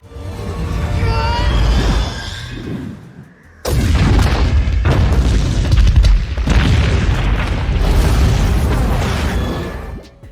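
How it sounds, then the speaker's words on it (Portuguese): Heavy explosions from the Kree bombardment of Earth in the Captain Marvel film, a loud sustained roar of booms and bursts with a sharp new blast partway through, dense and continuous with no clear pauses. "No primeiro filme dela, temos a Capitã Marvel impedindo o bombardeio Kree à Terra"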